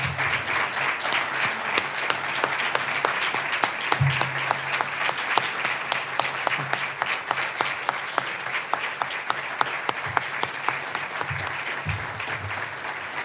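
Sustained applause from a large audience standing to honor women trailblazers at a university Founders Day event, dense steady clapping filling the hall for over ten seconds with a few low bumps of movement.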